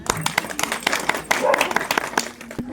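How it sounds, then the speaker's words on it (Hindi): Scattered clapping and applause from a crowd at a Women's Day celebration at Arki Palace, with voices talking over it throughout. "जोरदार तालियां"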